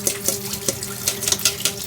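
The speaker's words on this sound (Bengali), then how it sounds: "চিংড়ি মাছটা একটু লবণ দিয়ে ধুইলাম।" Tap water running over small local shrimp being washed with salt, with repeated splashes and rinsing pulses close by.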